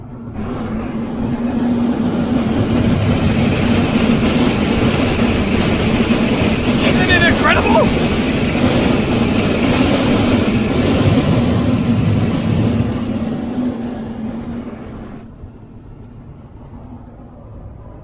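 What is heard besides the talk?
wind turbulence as car roof opens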